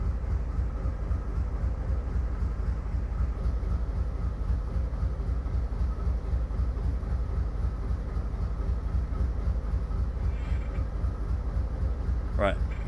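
A Chessie U30C diesel locomotive in a train simulator, hauling on an NS coal line, gives a steady, droning low engine rumble with a rhythmic pulse, continuous and even throughout, with a brief higher squeal near the end.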